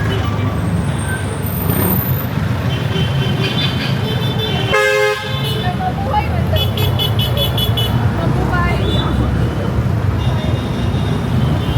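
Busy street traffic on Velas Street in Cagayan de Oro, with engines and vehicle noise rumbling throughout, a loud honk from a car horn near the middle and further horn toots afterward, rain conditions around.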